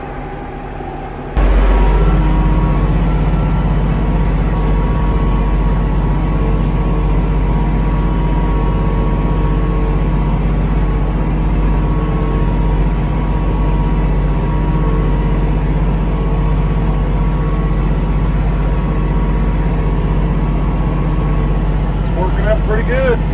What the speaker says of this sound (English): This is only a 10-foot disc, so it takes a little while